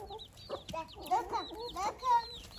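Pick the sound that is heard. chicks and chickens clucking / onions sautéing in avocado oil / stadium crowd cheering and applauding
chicks and chickens clucking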